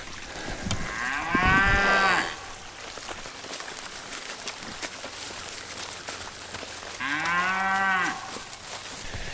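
Cattle on a pasture, with a steer and a bull nearby, give two loud, drawn-out moos several seconds apart, close by over quiet outdoor background.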